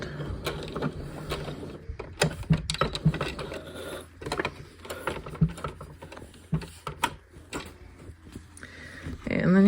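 A sewing machine stitches fabric squares for a zipper pouch, giving irregular bursts of quick mechanical clatter and creaks, fairly quiet and close, with short pauses between runs.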